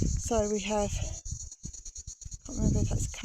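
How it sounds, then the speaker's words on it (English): Cicadas keep up a constant high-pitched buzz in summer heatwave sun over a hugelkultur garden, a steady background whine beneath a person talking close by. "I can't film in the sun without the cicada noise."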